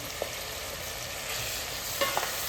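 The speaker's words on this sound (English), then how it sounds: "Gently stir this in." Ingredients are stirred into a simmering Tuo Zaafi stew, giving a soft steady frying hiss with a few faint utensil taps against the pot.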